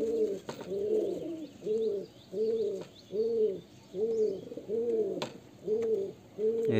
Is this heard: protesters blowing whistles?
no